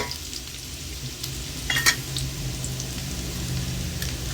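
Garlic fries in oil in a pan for a stir-fry of bamboo shoots with egg, a steady low sizzle throughout with one brief scrape of a utensil midway, close and moderately quiet, with no talk.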